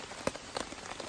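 Rain falling on a campsite during an all-night thunderstorm, a soft, steady patter of drops on a surface with a few sharper close hits, quiet and without speech.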